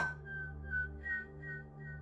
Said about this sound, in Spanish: Fue entonces cuando escucharon el silbido.